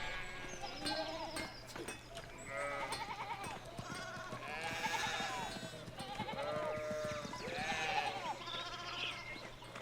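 Sheep bleat repeatedly in the Pentiment video game, several wavering calls overlapping at close range over a steady background hum, with faint voices mixed in.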